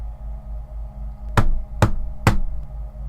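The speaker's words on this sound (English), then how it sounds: "I wake up to somebody pounding on my door" Three loud, heavy knocks pound on an apartment door at an even pace, each one a sharp thud over a low, steady room hum.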